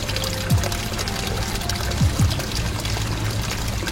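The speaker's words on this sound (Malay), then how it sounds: "Sebagai terapi minda, bunyian jeruan air terjun yang menenangkan." A waterfall flows with a steady, soothing rush, an even continuous wash of water with no pauses and no voices.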